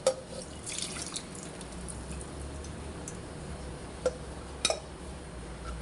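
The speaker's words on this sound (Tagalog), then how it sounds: "Tanggalin ko lang yung tubig." Water drains from a pot of boiled saba bananas, a steady close trickle and splash into a sink with a few louder drips and clunks standing out.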